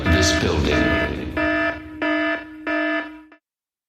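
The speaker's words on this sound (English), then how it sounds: "the fire alarm was pulled to alert patrons of the crisis" A movie theater fire alarm in Lafayette, Louisiana sounds three loud, regular tonal pulses, the first part masked by noisy commotion, before cutting off into silence.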